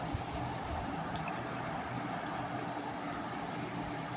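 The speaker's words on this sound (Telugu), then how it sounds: "వాటర్ మొత్తము పిండేసుకుందాము" Water squeezed by hand from grated vegetables for veg momos runs and dribbles out in a steady, continuous wet trickle, close and fairly loud throughout, with no talking.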